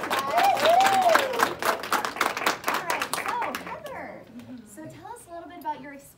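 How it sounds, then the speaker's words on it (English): A round of applause for a calendar cover model, as a small crowd claps for roughly four seconds while a voice talks over it, fading into speech afterward. "So let's give her a round of applause, guys."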